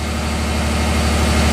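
A Cummins diesel truck engine idles close by at about 700 to 800 RPM, its low, even chugging pulse steady and loud throughout.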